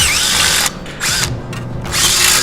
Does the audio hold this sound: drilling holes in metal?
yes